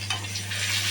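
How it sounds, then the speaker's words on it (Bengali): Taki fish fries in hot oil, producing a brief, dense, close sizzle over a steady low hum, with no talking. "মাছটা ভালো করে ভাজা হোক।"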